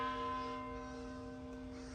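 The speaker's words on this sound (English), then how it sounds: "The bell is for the church. It's telling the time that it's 12 o'clock." A church bell rings for noon, a sustained resonant tone with layered overtones slowly fading, heard from a distance at low volume with no talk.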